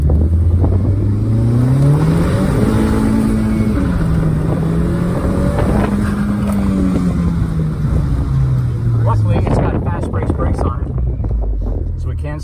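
A Honda Fit with a swapped L15B7 engine accelerates along a private stretch of road. The engine note climbs steadily, dips at a shift and climbs again under loud wind rush, then eases off.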